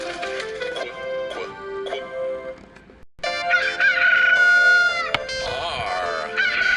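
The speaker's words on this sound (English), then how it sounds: "Rusty rooster, rusty rooster." Rooster crowing in a children's alphabet song, a loud, close cock-a-doodle-doo with drawn-out warbling calls, set among musical tones and clucking-like sounds.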